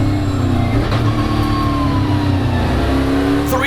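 EuroNASCAR race cars accelerate at Valencia, a dense roar of V8 engines revving hard and shifting up close by, loud and continuous throughout with no voices.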